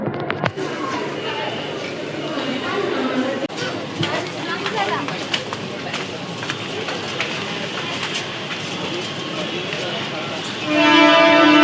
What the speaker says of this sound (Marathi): ट्रेनमध्ये भरपूर गर्दी आहे